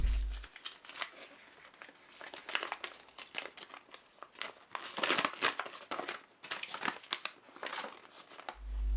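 A small plastic flashlight box and paper instruction manual being handled up close, with irregular crinkling, rustling and crumpling of paper and packaging, fairly quiet, no talk.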